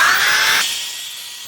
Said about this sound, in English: Let's sand this front side, see how it looks.